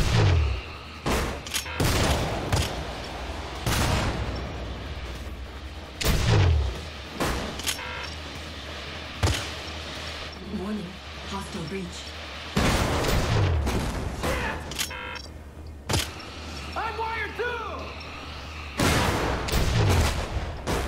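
Incoming missiles and gunfire in Syndicate (2012): loud booming impacts and blasts recur every few seconds amid a noisy background of shooting and clatter, with no clear talk.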